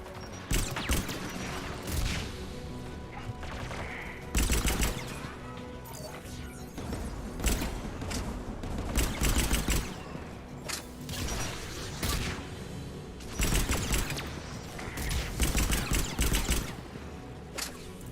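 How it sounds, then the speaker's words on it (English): Geth anti-aircraft guns in Mass Effect 3 fire heavy booming bursts at irregular intervals, loud crashing blasts and mechanical clanks over a steady game soundscape. "The Geth anti-aircraft guns are up ahead."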